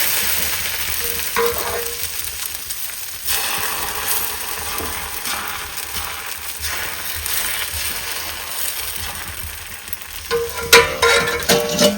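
Ghavne, a Konkan rice batter crepe, cooks on a hot tawa, giving a steady soft sizzle with occasional metallic scrapes and clinks, a bit busier toward the end.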